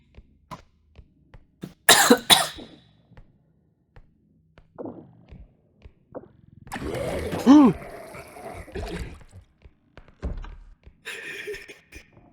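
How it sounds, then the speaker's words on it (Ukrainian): A person coughs in loud, rough bursts during a game session, alongside thumps, clicks and other scattered noises, with some voice sounds mixed in. "Не кашляй."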